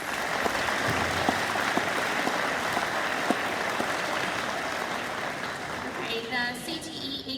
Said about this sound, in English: Y'all give those students a round of applause.